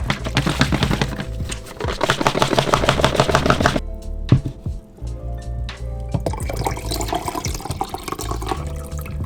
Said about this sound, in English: I pour in some water, shake it around the tank, pour it back out, and do that a couple more times.